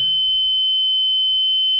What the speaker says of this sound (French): quand on a un bip continu, ça veut dire qu'on est bien calé sur le trait laser